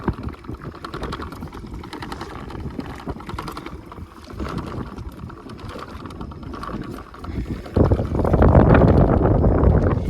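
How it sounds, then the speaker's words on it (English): A small electric trolling motor on a DIY Coroplast boat hums and pulses unevenly with the waves over heavy wind buffeting the microphone and lapping water, growing louder and rougher near the end. "You can hear the motor pulsing as the waves come."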